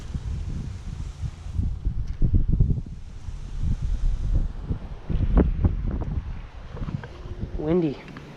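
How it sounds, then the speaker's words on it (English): Wind blowing by a pond while out fishing, a steady rumbling buffet on the microphone that rises and falls, with a person talking over it for much of the time. "Windy."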